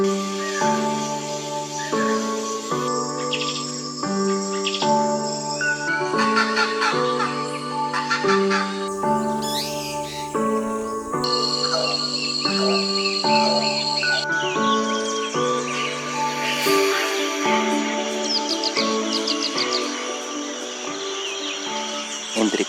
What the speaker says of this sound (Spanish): Entre cantos y llamadas de caciques, oropéndolas, panguanas, trepatroncos, chachalacas y otras aves, así es el amanecer en la Amazonía peruana.